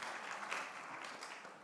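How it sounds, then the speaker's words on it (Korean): Congregation applause during a Sunday church service, a faint, steady wash of many hands clapping, distant and brief. "박수를 보내겠습니다."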